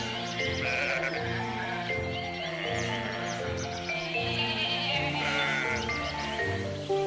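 A flock of sheep bleating continuously, several overlapping wavering calls at once, close and fairly loud, with no voices over them.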